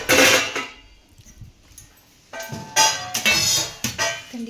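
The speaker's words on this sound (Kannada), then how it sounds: "ತಟ್ಟೆ ಎಲ್ಲ ತೊಳೆದಿರವ ಇವು." Plates and dishes clatter and clink in short bursts of handling, close by, with quieter pauses between the clusters of contact.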